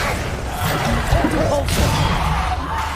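A Bombarda spell blast in Hogwarts Legacy hits with a sharp crash and swish, followed by another whooshing impact, while a shouting voice casts over the noisy game action.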